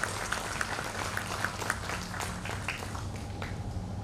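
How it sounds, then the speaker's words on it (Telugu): A gathered audience at RIMS Ongole claps to congratulate a respected teacher. The applause is soft and somewhat distant, a continuous patter with a few sharper claps standing out. "కాబట్టి సార్కి మనందరి తరఫున ఒకసారి గట్టిగా చప్పట్లతో అభినందించాల్సిందిగా కోరుతున్నాను."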